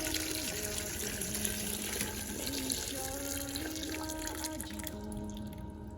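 Tap water runs steadily into a pot for pasta, a soft continuous splashing stream heard fairly quietly over faint background tones.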